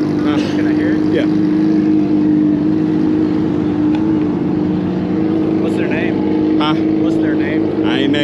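A motorcycle with a straight header and a full muffler runs at a bike night gathering, making a steady, loud engine drone throughout. People talk close by over the engine.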